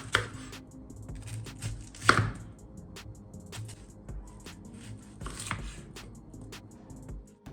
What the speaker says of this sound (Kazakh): Одан кейін пиязды осылай турап шығамыз